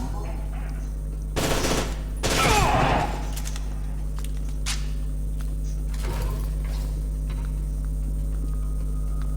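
Bursts of automatic gunfire from a gun in F.E.A.R. 2: Project Origin, two loud rapid bursts early on and fainter shots later, over a constant low electrical hum.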